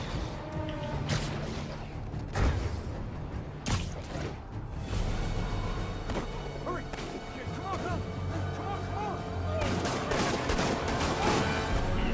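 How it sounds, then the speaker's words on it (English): Enemies firing guns at the player in Marvel's Spider-Man during a prison riot in New York, with dense, continuous gunfire, crashes and whooshes mixed with game music. Voices talk over the action. "Look at these motherfuckers still shooting at me, bro."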